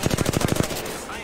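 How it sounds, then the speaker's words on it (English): Rapid automatic gunfire in the shooter game Apex Legends, a loud close burst of about a dozen evenly spaced shots that stops and trails off into fading echo. "I am taking fire"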